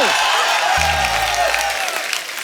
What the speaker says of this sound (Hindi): तो मैं आप सबकी जोरदार तालियों के बीच में इनवाइट करना चाहूंगा पद्मिनी जी के जीजा जी को